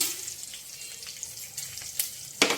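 Steady sizzle of frying in a pan as a chutney base is cooked on a stove, a soft continuous hiss with a few brief clinks and a sharper scrape near the end.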